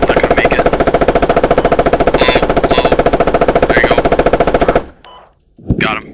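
Rapid sustained burst of a tank's machine gun firing in a video game, loud and continuous for nearly five seconds before cutting off, followed by brief quieter game sounds.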